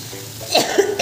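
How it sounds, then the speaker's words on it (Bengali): A few harsh coughs from a person, one sharp burst followed by a shorter rougher one and another at the end, close and fairly loud over a quiet kitchen background. "এই কাশিটা আর যাইতেছে না,"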